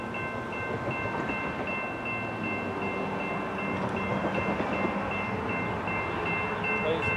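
Norfolk Southern intermodal freight train 201, led by Savannah & Atlanta heritage unit 1065, rolls past at a distance near Rossville, Tennessee: a steady rumbling roar with faint wheel clatter and a high tonal whine running throughout.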